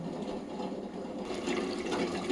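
Water poured into a pot of chicken sambar on the stove, a steady close splashing gush that swells slightly partway through and continues throughout.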